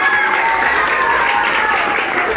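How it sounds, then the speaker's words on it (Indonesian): A class of second-grade students applauds in a school classroom, a brief burst of steady clapping from many hands, with some voices mixed in. "Kasih tepuk tangan kelas 2."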